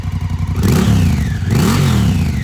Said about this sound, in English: here's an exhaust note as well